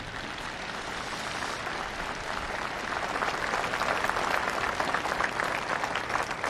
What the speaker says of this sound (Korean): 여러분 함께 감사의 박수를 보내주시기 바랍니다